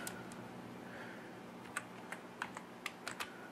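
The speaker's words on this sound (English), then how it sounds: "And I'm just going to type in" Typing on a computer keyboard while entering a partition name during a Snow Leopard Mac OS X install on a PC: a handful of separate, fairly quiet keystrokes, irregular and close, over a steady background hum.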